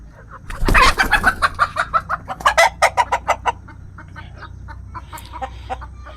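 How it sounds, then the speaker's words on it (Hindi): Desi free-range chickens on a farm cluck in a rapid run of loud, close calls that fade into softer scattered clucks, with no talking. "मेरे मुर्गे, देसी मुर्गे देखो, ये देखो कितने अच्छे हैं।"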